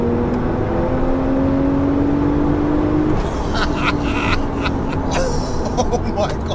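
Hard acceleration from a 750 hp Porsche 911 Turbo S, heard from inside the car as a loud, rising engine whine that climbs steadily and then gives way to a gear change and continued roar, with excited voices over it.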